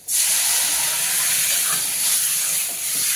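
A loud, steady sizzling hiss bursts in at once and holds for a few seconds, as hot oil tempering with turmeric is poured onto cluster beans in a pan.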